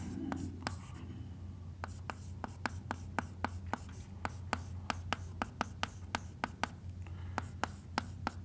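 Chalk or marker strokes on a board during a geometry lesson, a steady run of short, sharp scratching taps at an even rhythm, close and fairly quiet, with no talking over them.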